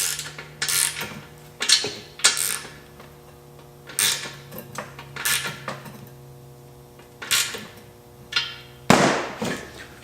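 Torque wrench tightening motor and transmission mount nuts to 18 foot-pounds on a BMW E36, heard as a series of sharp ratcheting clicks in irregular bursts, close and clear, with a faint steady hum behind them.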